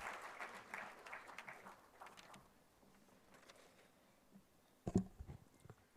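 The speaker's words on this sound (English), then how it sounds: "A big round of applause to him." Audience applause at a supercomputing conference valedictory ceremony, a soft crowd clapping that fades after a couple of seconds into quiet room noise, with a few sharp knocks near the end.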